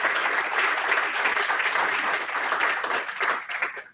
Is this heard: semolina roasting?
no